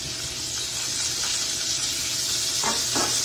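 Cherry tomatoes sizzle in browned butter, a steady broadband hiss filling the whole stretch, with a couple of soft stirring or shifting sounds near the end.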